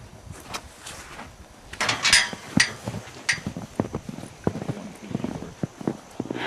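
Horses shifting and stamping at a ranch during feeding, with irregular hoof clops and knocks on hard ground, close by and varying in loudness, mixed with faint rustling.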